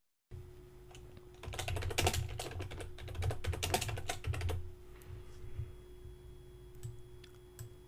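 Fingers tap out a short name on a computer keyboard while saving a website map section, a quick close burst of crisp key clicks that thins to a few scattered taps before going quiet.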